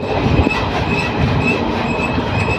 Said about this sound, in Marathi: 2 टनलच्या मध्ये आहे ही ट्रेन